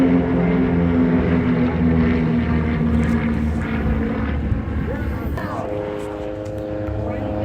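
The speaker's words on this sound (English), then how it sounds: "Here's some other planes in formation flying overhead." Propeller planes flying overhead in formation at the Oshkosh AirVenture air show, a loud continuous droning engine roar with steady tones that slowly shift in pitch and ease off as they pass.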